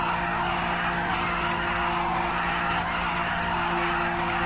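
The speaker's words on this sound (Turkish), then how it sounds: "Lastikleri yakıyoruz." A Fiat Doblo in a driving video game spins in place with its tires burning and skidding, a steady loud screech over a droning engine that holds without a break.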